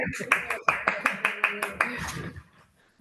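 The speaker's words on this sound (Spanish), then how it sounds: "esto se merece un aplauso." A small group claps in a quick, even rhythm, about ten crisp, close claps, then stops abruptly, leaving near silence.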